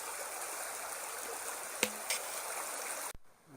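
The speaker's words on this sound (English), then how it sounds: "some more small rapid like waterfalls, some more deep pools" A stream with small rapids and waterfalls pours in a steady broadband rush, close and continuous, with a couple of brief clicks before an abrupt cut near the end.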